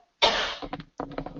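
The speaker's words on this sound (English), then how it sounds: "Hang on one sec because I have to cough." A single loud, close cough bursts out and fades over about half a second, followed by a few short throat-clearing sounds and faint breaths.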